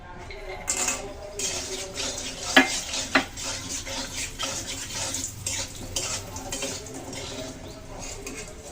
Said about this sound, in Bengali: বড়িগুলো আগে ভেজে নেব।